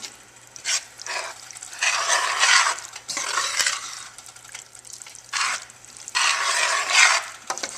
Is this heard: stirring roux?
yes